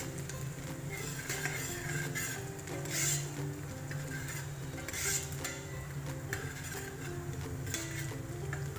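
Garlic sizzles steadily in a hot pan while a spoon stirs it with scraping and clinking, during Filipino cooking of adobo duck with pineapple. The sizzle stays continuous at a low level and no one talks.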